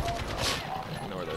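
Gunfire in Call of Duty: Modern Warfare, a burst of shots in a building-centred multiplayer map, heard as sharp cracks at moderate distance mixed in with the game's background and a player's talk.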